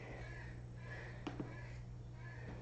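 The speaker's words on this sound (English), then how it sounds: "There's like a loud ass crow outside my window." A crow caws outside a window, a few faint, distant repeated calls over a steady low hum indoors.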